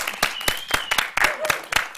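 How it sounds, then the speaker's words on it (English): Sparse applause at a small awards night, a few separate claps spaced irregularly, fairly quiet, with faint voices in the background. "At that point, there is rapturous applause."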